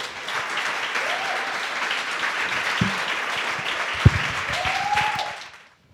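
A church congregation at a creative evening service applauds loudly and steadily for several seconds, with faint whoops over the clapping before it cuts off abruptly.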